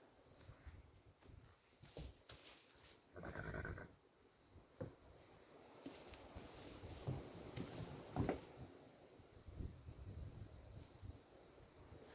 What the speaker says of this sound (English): a beautiful horse.